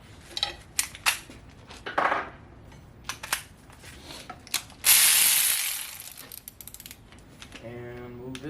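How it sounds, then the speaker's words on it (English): Metal ratchet clicks in short bursts while bolts are loosened during a teardown of an LS 5.3 engine, mixed with clanks of parts and tools being handled nearby and a longer grinding whir midway. "Keep that bolt."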